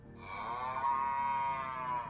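A cow gives one long, steady moo lasting about two seconds, close and clear, with no talk over it.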